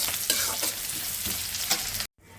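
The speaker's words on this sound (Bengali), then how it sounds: "একটু সব রকম মশলা দিয়ে কষিয়ে নিচ্ছি" Onion and mixed spices frying with ginger-garlic paste in a pan, a bright dense sizzle with quick repeated stirring scrapes, close and steady before cutting off abruptly, with no talking.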